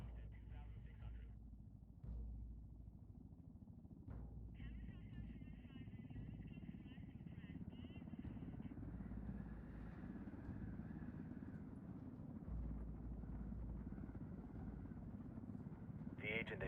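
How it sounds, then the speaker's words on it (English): Helicopter flying in Ghost Recon Wildlands, a steady low rotor and engine rumble under radio-style voices that continues throughout. "Tower, helicopter 405 Romeo Whiskey."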